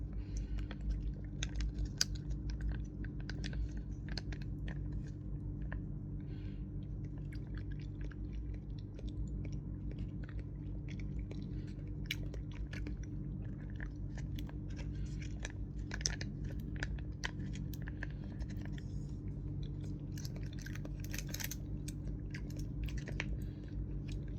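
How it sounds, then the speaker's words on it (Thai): Muscat grape-flavoured jelly chewed close to the mic, a steady run of soft squishy bites and crunchy clicks lasting throughout over a constant low background hum, with no talking. "กินเยลลี่อร่อยมากรสองุ่นใช้มัสแคท"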